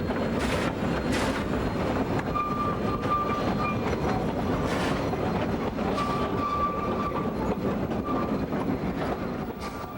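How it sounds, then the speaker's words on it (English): A sugarcane train in Hawaii rumbles steadily past with rhythmic clacking of wheels on rails and occasional squealing, close and continuous throughout. "Here we see today's sugarcane train running alongside a modern cane road"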